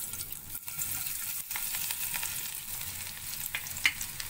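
Soft, steady sizzling of chopped garlic frying in a shallow pan for idli manchurian, with occasional stirring scrapes and light crackles, close and fairly quiet.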